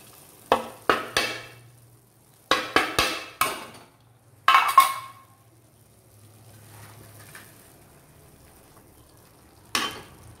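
A spoon stirring a soup of steamed chow chow and keerai greens in a metal pot, several sharp clanking knocks in short clusters separated by quiet gaps.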